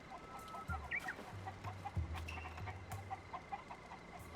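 Video game hens from The Legend of Zelda: Tears of the Kingdom cluck in short, scattered bursts over a low electronic hum, fairly quiet and close.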